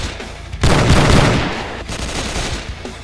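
Rapid revolver fire from a six-shooter in a Western shooting game, a loud, dense burst of gunshots with trailing echo, followed by further quieter shots.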